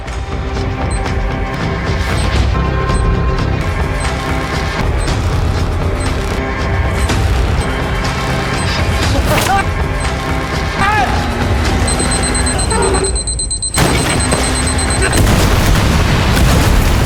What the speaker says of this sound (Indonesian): Kapten Miao pusing akibat ledakan itu.